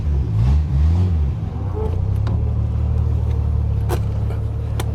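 A 1974 Triumph TR6 engine runs with a clutch that will not disengage, giving a steady, close, low rumble throughout, with a wavering drone early on and a few faint clicks.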